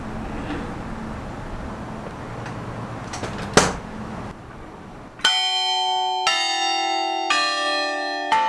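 Low ambient noise and a sharp clank, then loud church bells ring out in several successive strikes, their tones hanging and overlapping.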